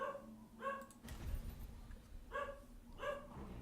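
Several faint, muffled dog barks come in pairs from across the room, separated by a brief rustling thump, all at low volume over a steady hum.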